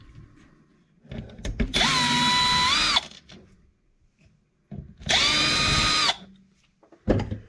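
A power drill drives out screws from a Maxx chassis in two loud, close bursts of high, whining motor spin, each lasting about a second, with its pitch dipping as the screw loosens, separated by quiet handling.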